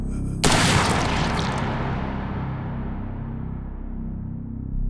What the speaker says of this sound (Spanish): El sonido del disparo resonó en el aire.